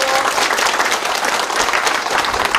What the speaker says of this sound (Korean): 다시 한번 뜨거운 박수를 보내주십니다